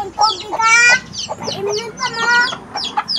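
Several chickens cluck busily while being fed, a dense run of harmonic clucks and squawks through the whole stretch, fairly loud and close, with some voice-like background murmur.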